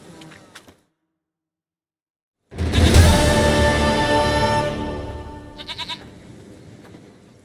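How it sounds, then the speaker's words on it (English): Goat in The Witcher 3 game world lets out a loud, near, drawn-out bleat after a brief silence, followed by a faint stuttering tail. "Goat of mine, dearest, sweetest goat."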